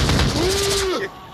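Rapid gunfire from the VR military shooter Onward crackles in a dense burst, followed by a sustained whining tone that fades within about a second.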